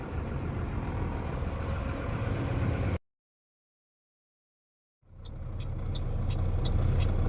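A truck hauling a 16-foot-wide load rolls past a police checkpoint on a highway at night, with a steady close engine and road rumble that cuts to silence briefly, then resumes with rhythmic high ticking.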